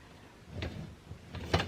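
A closet drawer slides and knocks shut in a quiet room, a few soft scrapes followed by a firmer close near the end.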